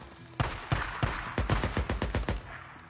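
Gunfire in the video game Days Gone survival mode: a burst of rapid, sharp shots, first spaced then quickening into a tight volley, loud and close with no talk over it.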